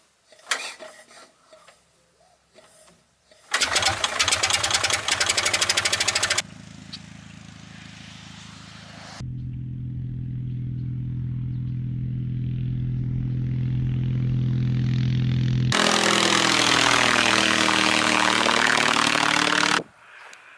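Engine of an Aeronca C3 light aircraft with a 37-horsepower motor, running loud and close, with bursts of roar, a steady droning stretch that climbs in pitch, then a full-throttle run.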